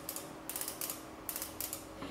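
A piezo gas lighter button is pressed repeatedly, giving a series of about six sharp, faint spark clicks spaced unevenly in a quiet room.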